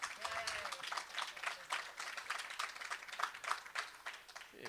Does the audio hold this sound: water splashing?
no